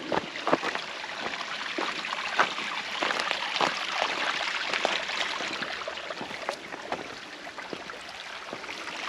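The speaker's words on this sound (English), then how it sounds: "Nice little babbling brook." A small babbling brook at a trail crossing on Upper Stevens Creek, near Table Mountain, gurgles and trickles in a continuous close wash of water sound with scattered splashy ticks.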